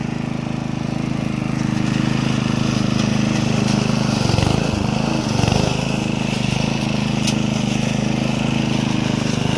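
A $200 Bunnings petrol lawn mower cutting thick grass, its small engine droning loud and steady at close range, with brief bogging dips as the blade works through dense growth.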